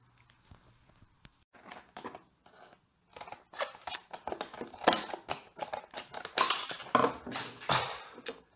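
Scissors cut open plastic blister packaging on a dinosaur mini figure, a series of crisp snips and crinkling plastic crunches that start sparse and grow busier and louder, close up.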